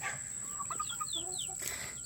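A rare-breed free-range chicken clucks softly outdoors, giving a few short, faint calls over a steady hiss of background noise.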